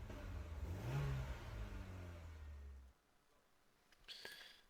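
A car with its stock exhaust revs for about three seconds, a fairly quiet, steady engine note with one rising swell, then cuts off abruptly, leaving a faint background with a short sharp noise near the end.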